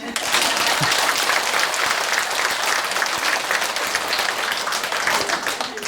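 Lively applause fills a temple hall during a monk's lecture at Daegwaneumsa in Ulsan, loud, dense clapping that holds steady from start to finish.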